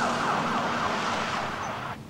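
An ambulance siren wails loudly as the vehicle pulls away, its rising and falling tone sweeping over engine and road noise before cutting off abruptly near the end.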